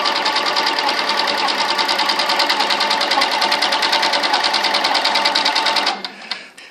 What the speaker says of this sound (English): And I'm just going to start sewing.